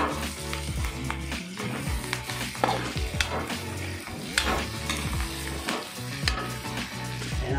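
Bagoong alamang, a Filipino shrimp paste, sizzling in a pan for ginataang bagoong, with busy crackling frying noise and scraping and stirring knocks throughout, close and steady, with no one talking.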